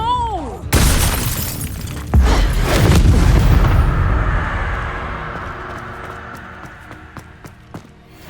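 A Confringo blasting curse erupts in Hogwarts Legacy, a sudden loud blast followed by a second heavy boom and a long rumbling, crackling tail that slowly fades, with scattered small clicks at the end.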